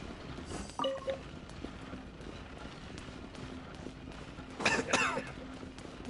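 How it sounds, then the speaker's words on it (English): A Genshin Impact character coughs while sprinting, two short, faint coughs, one early and one later, over quiet game ambience with soft footsteps. "Oh my god, he coughs when he sprints."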